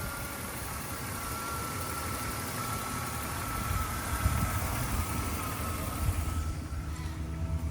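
A 1994 Ford EF Fairmont wagon engine idles steadily nearby, a low continuous rumble with a faint hum on top that holds even for nearly eight seconds and ends slightly quieter.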